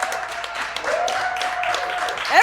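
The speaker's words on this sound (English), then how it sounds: "round of applause for Keith" A live studio audience at a pop-the-balloon dating show applauds and cheers a newly matched couple in a brief, dense burst of clapping with shrill whoops rising through it.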